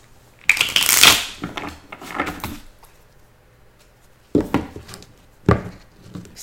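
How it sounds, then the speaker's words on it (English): A tarot card deck being shuffled by hand, with a loud riffling burst at the start, softer shuffles after, then two more short bursts of cards after a pause. "This deck, I'm going to shuffle it because it's jumpy today."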